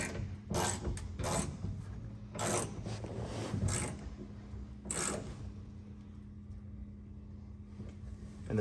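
A ratchet tightens a nut on a GFC truck bed mount, several close, crisp clicking bursts in the first half, then a low steady hum with little else.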